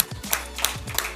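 A church congregation at a Sunday worship service claps and applauds together, a short, fairly soft burst of scattered hand claps with no talking.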